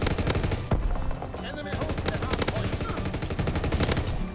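Rapid automatic gunfire in the multiplayer shooter Call of Duty: WW2 on PS4, a dense near-continuous stream of loud shots with brief gaps, while a player talks.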